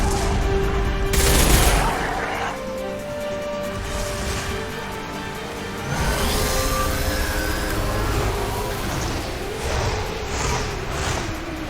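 A high-impact shot fires in Mass Effect 2 Legendary Edition with a sharp burst, followed by sustained combat noise and scattered gunfire at moderate loudness.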